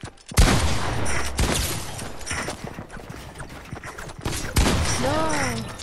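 Rapid bursts of gunfire in the video game Fortnite ring out loud and close, with several volleys spread across the moment and a brief voice near the end.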